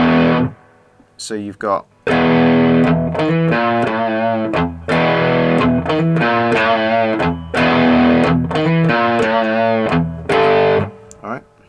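A three-string cigar box guitar plays chords and single notes through a distortion effect, loud, buzzing and sustained in bursts separated by short pauses, with someone briefly speaking in between.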